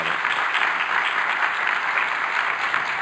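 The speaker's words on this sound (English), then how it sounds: "let's just quickly do a round of applause for all the staff and everybody at SCAI who put all this together" A conference audience applauds the event staff after a presidential address, with sustained, dense clapping filling the hall evenly from start to finish.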